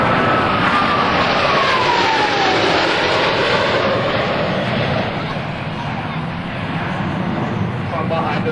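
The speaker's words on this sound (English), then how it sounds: "Blue Angels 5 and 6 are approaching the flight line in a line of rest formation at 400 miles per hour." US Navy Blue Angels jets 5 and 6 roar past at an airshow, a loud continuous broadband jet rumble with a falling whine as the pair passes, a public-address announcer talking over it.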